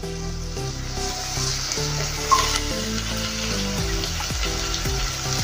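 Red chili sauce is stirred into a sizzling pan mixture for Mexican rice. A steady frying hiss and occasional scraping stirs sit under background music.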